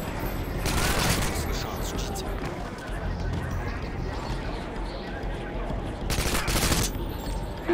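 Gunfire in the video game Call of Duty 6 during an Arctic airfield infiltration, a dense, steady crackle of shots running throughout with louder bursts near the start and end, over a busy background of game noise.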